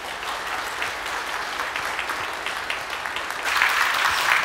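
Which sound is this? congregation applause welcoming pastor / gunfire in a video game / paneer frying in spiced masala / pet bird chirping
congregation applause welcoming pastor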